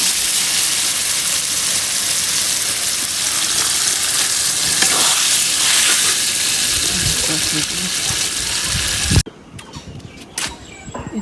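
Meat fries in spiced oil in a pan with a loud, crackling sizzle and stirring scrapes. It cuts abruptly to a quieter stretch with a few sharp knocks near the end.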